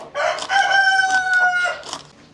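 A Rhode Island rooster crows once, loud and near, with hen clucks around it in a backyard flock being fed vegetables.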